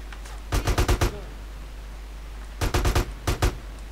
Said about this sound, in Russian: Блин, больно. Стреляют.